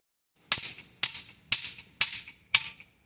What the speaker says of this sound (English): So I'm driving this in with a hammer to about 55 inches.